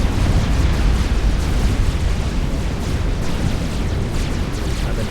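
Explosive booming and bursting from torpedo fire in the real-time strategy game Supreme Commander: Forged Alliance, destroyer torpedo launchers hitting a commander unit at sea; a dense, loud, continuous rumble of blasts without pause.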